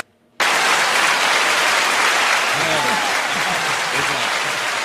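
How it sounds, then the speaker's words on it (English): A canned applause button effect plays on a live show, a sudden dense burst of clapping and cheering that holds steady for several seconds, with a host's voice briefly underneath. "give them the applause button"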